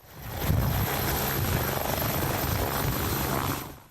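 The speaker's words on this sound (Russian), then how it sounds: "Тем временем вертолет с пациентом уже над Уфой." A medical air ambulance helicopter flying over Ufa, a loud, steady rotor and engine roar that swells in, holds close and even, then fades out at the end, with no talking.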